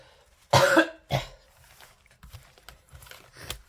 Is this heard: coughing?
yes